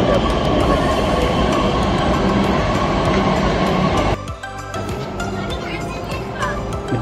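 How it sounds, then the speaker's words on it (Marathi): Pune underground metro train arriving, a loud sustained rumble and rail clatter with wheel squeal that drops to a quieter hum partway through as it slows at the station. "आणि आता एक मेट्रोची गाडी पण आलेली या व्हिडिओमध्ये आपल्याला दिसत आहे"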